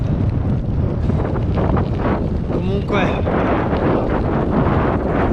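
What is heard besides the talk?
wind noise on microphone while cycling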